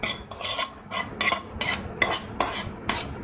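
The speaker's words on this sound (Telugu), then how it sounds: "దీనిని రైస్లో వేసేసుకుందాం రైస్లో వేసేసుకొని" A metal spoon stirs and scrapes through cooked rice as tempering is folded in for pulihora, producing about six evenly spaced, close scraping clinks with no talk.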